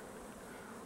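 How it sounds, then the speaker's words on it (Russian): Bees buzz steadily around a hillside apiary in late summer, a dense, continuous swarm hum with no voices. "На пасеке хорошо, хорошо. Пчелки летают. Пчелки вовсю летают."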